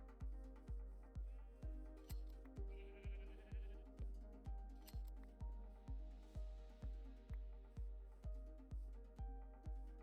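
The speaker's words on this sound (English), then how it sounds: "there's a few sheep right there." Sheep bleating in the Minecraft video game, repeated short bleats over a steady, evenly pulsing low rhythmic thump that runs throughout at an even pace.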